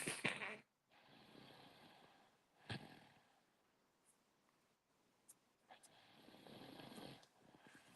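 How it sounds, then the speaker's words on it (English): A man snores on a live stream, faint breathy snores and snorts spread across a quiet background, with a louder noisy burst at the very start. "This man snoring on live."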